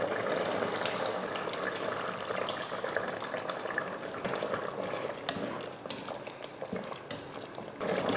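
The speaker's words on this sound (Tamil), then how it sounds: "இப்போ புளி ஊற்றிடலாம்" Tamarind water poured into a pot of simmering brinjal curry for mutton dalcha, a steady watery splash and bubbling running throughout with faint stirring clatter, close and fairly quiet.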